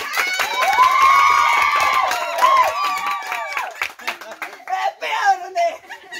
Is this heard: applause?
yes